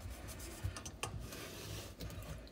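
Kohler kitchen sink drain strainer being tightened by hand, quiet scraping and rubbing with a few sharp metallic clicks and taps.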